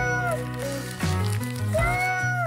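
A child imitates a cat with drawn-out, wavering meows, two loud, close vocal mews, one after another, with a brief break between them.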